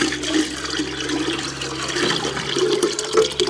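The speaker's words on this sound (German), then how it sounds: "Erstmal ordentlich umrühren und dann ab in die Gießkanne." Homemade liquid garden fertilizer pours steadily into a watering can, a loud continuous gushing and splashing close by with no talking.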